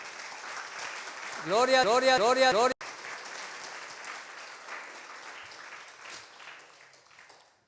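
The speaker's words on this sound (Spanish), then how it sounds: "Denle un aplauso al Rey de Reyes, hermano." A church congregation applauds with a soft, diffuse patter of clapping. A voice cries out a short sung exclamation partway through, and the clapping fades out toward the end.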